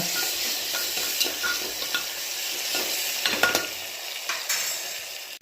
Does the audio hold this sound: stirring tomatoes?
yes